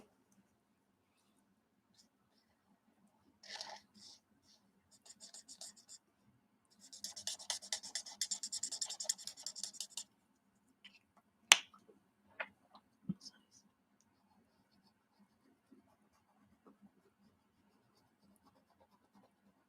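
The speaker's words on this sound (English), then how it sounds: "This art and flat pencil is not bad." An art pencil coloring on paper in a color-by-number book, heard as quiet, close scratchy strokes in short bursts and one longer stretch, with a few soft clicks and taps afterward in an otherwise quiet room.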